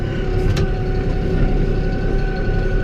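A tractor fitted with a box blade runs with a steady, close, loud low engine rumble that holds even throughout, with no voices over it.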